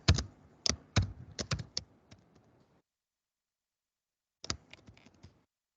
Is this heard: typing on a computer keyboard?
yes